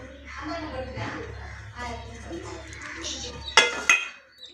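A cake pan is flipped onto a plate for a white forest cake, giving a couple of sharp metallic clinks and a knock near the end, while someone talks steadily over a low background hum.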